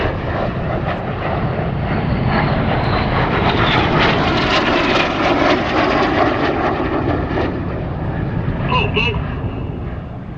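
Red Arrows jet aircraft roaring past at the 2024 Sywell Airshow, a loud sustained engine roar swelling and fading as the jets pass overhead, with a commentator talking over it.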